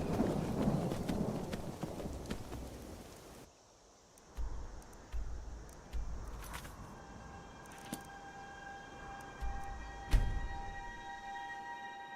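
Shadowmere, the black horse in Skyrim Anniversary Edition on Nintendo Switch: a rumbling thunder roll and rain-like wash, then sparse, separate hoof clops and game effects against a quieter background.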